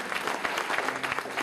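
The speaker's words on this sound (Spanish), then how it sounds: "Ese aplauso fuerte" Steady applause from a church congregation, dense and continuous clapping throughout with no pauses.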